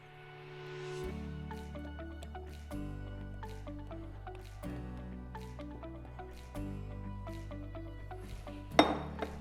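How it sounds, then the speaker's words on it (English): Whisked mixture poured into a jug, a soft steady liquid flow with a few light clinks of glass and utensils, quiet and close, ending with a sharper knock. "Now the easiest trick is to pour it into a jug."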